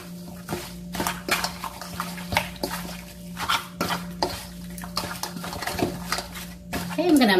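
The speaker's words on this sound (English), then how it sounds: "I'm gonna make sure that you thoroughly mix it all together" A spoon scrapes and taps around a bowl while mixing crab with binder for steamed blue crab, making soft, irregular clinks and stirring strokes over a steady low hum.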